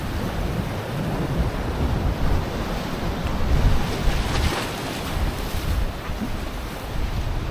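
Sea surf washing against a stone bastion on Redi Beach in the Konkan, a steady broadband roar of waves with gusting wind over the microphone, continuous and fairly close, with no voices.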